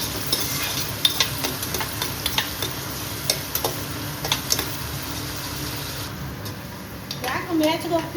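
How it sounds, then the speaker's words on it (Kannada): Onions and masala fry in a pan for a chicken gravy, with steady sizzling and repeated scraping stir strokes, followed by a louder burst of sizzle near the end. "ಮಸಾಲೆ ಹಾಕೊಂತ ಇದೀನಿ. ಈರುಳ್ಳಿ ಹಾಕ್ತಾ ಇದ್ದೀನಿ."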